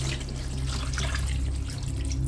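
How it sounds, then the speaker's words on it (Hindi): Water poured from a glass into a pot of Andhra-style chicken curry with whole tomatoes, a steady close splashing pour with no talk. "उसके बाद 1 गिलास पानी डाल देंगे, बस 1 गिलास पानी"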